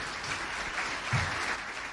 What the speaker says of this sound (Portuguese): uma salva de palmas pelo vosso trabalho por Cabo Verde